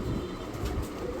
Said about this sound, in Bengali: এই স্প্যানিশের ব্লুবার্ড মাদি কবুতর মাত্র 1500 টাকা